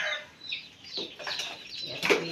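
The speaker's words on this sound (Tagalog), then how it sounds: "Siyapan na ng siyapan. Siyapan na ng sisiyo." Young chicks peep in a farmyard, a run of thin, high chirps scattered across a couple of seconds at moderate distance, with soft background noise and no talking.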